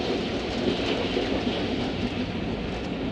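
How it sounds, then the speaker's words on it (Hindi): The Khyber Mail passenger train runs at speed on a single-line track, a steady, loud rumble of wheels on rails heard from inside the business-class gallery, with no talking. "तो एक अच्छी स्पीड के साथ ट्रेन चल रही है"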